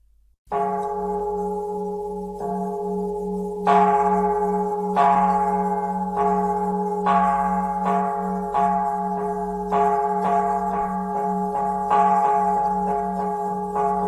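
A Buddhist temple bell is rung for evening prayer in a Vietnamese cải lương stage drama. After a low sustained tone, the bell strikes a series of resonant blows about once a second, each ringing out and decaying over a steady hum, with no voices.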